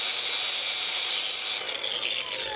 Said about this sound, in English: so I like the angle grinder.